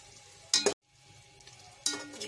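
Masala with tomato frying in a pan, with a low steady sizzle broken by two short bursts of stirring and scraping near the start and end.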